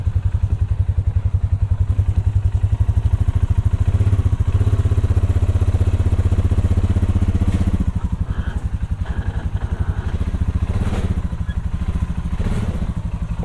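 An ATV engine idles and revs gently as it climbs into the bed of a Ford Maverick truck, a loud, close, steady thrumming with occasional clanks and thumps toward the end.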